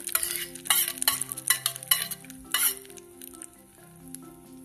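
Curry leaves crackle and sizzle loudly in hot oil in a pan with roasting urad dal for oats idli, bursts of spattering frying up close that gradually settle into a softer sizzle, with background music.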